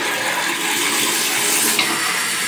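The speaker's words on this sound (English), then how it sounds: "ipa-flush nyo, pipindutin nyo." Automatic toilet in a luxury hotel junior suite flushing, a steady close rush of water and hiss filling the whole moment without speech.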